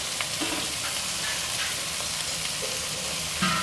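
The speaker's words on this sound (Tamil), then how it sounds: "இதில் வெங்காயம் நல்லா வதங்கட்டும்" Onions sizzle steadily in hot coconut milk oil, a constant crackling hiss with a few faint stirring scrapes.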